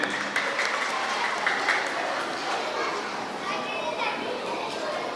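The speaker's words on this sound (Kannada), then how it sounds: "ಅವರಿಗೆಲ್ಲರೂ ನೀವು ಕೈ ಚಪ್ಪಾಳೆ ತಟ್ಟಬೇಕಾಗಿ ನಾನು ಕೇಳಿಕೊಳ್ಳುತ್ತೇನೆ" An audience claps in a steady, dense burst at a school annual day of Holy Angels aided higher primary school, Permannur, with children's voices and chatter mixed in.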